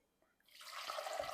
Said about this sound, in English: I need to put in 2 cups of water.